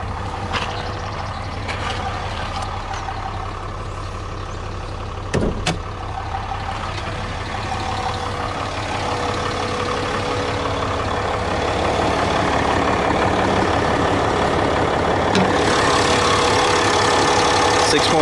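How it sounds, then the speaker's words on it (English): A 6.7-liter Cummins turbo diesel in a RAM 2500 ST crew cab 4x4 idles under the open hood, a steady low engine rumble that runs the whole time and swells slightly louder toward the end, with a brief clunk midway. "7-liter turbo diesel Cummins"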